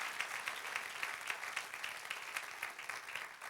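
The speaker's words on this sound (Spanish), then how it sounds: "Dale aplauso al Señor" A church congregation claps together in a steady, fairly quiet round of applause, dense and even throughout, with no clear voices over it.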